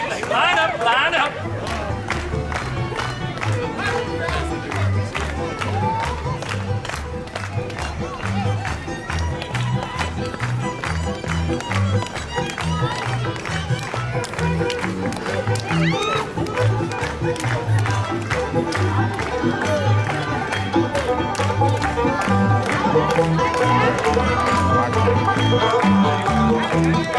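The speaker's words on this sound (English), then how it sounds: "Hold a big old round of applause" Crowd clapping and cheering at a Western hoedown show at Knott's Berry Farm, continuous dense applause with whoops, while a host talks over it.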